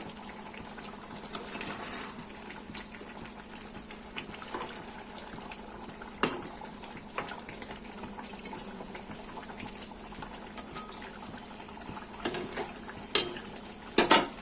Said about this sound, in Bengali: এই কষানো মাংসটার মধ্যে আমি আলুগুলোও দিয়ে দিচ্ছি, সব একসাথে কষাবো।